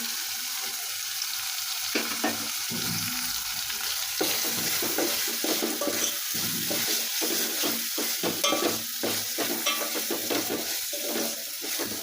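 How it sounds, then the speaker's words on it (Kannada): Dry coconut stir-fries in a pan for chicken masala, making a continuous close sizzle with frequent scraping and stirring strokes, heard alone with no talk. "ಕೊಬ್ಬರಿ ಹಾಕೊಂಡು ಚಂದ ಹುರ್ಕೋಬೇಕು ರೀ"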